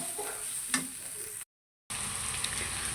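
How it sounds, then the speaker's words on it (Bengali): Green chilies frying in a pan for a mashed chili dish, a soft steady sizzle with a faint stir around the middle, cut by a brief silent gap before the hiss resumes. "আর কিছুক্ষণ ভেজে নিব"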